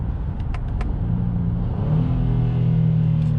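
A 2021 Honda Ridgeline truck's engine accelerates with a steady, loud low rumble and a rising drone, heard close from inside the cab with no talk.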